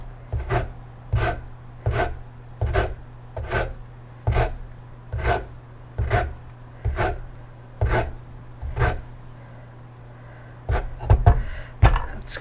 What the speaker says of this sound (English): now I want the zest and juice of half a lemon